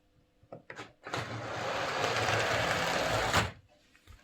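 Hornby R450 Class 2P model locomotive driven directly from a 9-volt battery across the rails, a small electric motor whirring steadily for about two seconds after a few clicks, close and fairly quiet with no voices.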